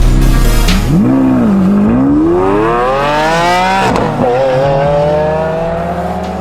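A BMW F10 M5 on a top speed run accelerates hard up close, its engine note climbing through the gears with a brief dip at a shift, then holding a loud, high, sustained roar.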